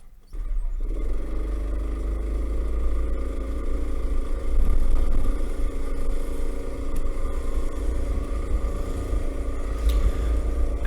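Rental racing kart number 19 laps the Varna Karting track while warming its tires, its small engine droning loud and steady from start to finish after a brief opening moment, with no talking.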